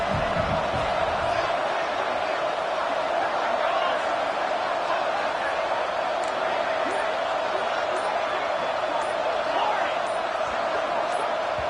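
Dense, steady roar of a packed football stadium crowd during a fourth-down play in a Wyoming versus Liberty game, loud and continuous throughout with no distinct voices standing out.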